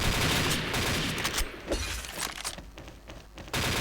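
Bursts of rapid gunfire in the shooting video game Xshot, loud and close, with sharp shattering cracks layered over a dense rumble and a quieter pause before a final burst.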